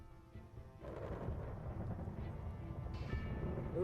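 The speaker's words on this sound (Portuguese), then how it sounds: "Enquanto a tempestade se aproxima, os raios caem cada vez mais perto e são cada vez mais frequentes." Thunder from a nearby lightning strike as a storm approaches, a faint deep rumble swelling and rolling on for several seconds.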